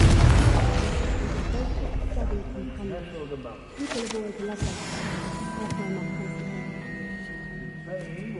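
A Confringo spell explosion in Hogwarts Legacy lands as a deep boom and rumble, followed by further thuds and a fading resonant tail under game sounds, with a voice speaking near the start.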